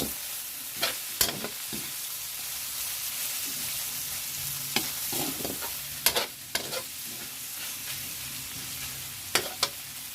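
Chopped bottle gourd (upo) sautéing in a pan, a steady hiss of frying broken by sharp scrapes and clacks of a spatula stirring, close up and without talk.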